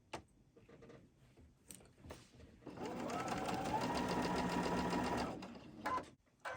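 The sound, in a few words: sewing machine stitching sashing onto a quilt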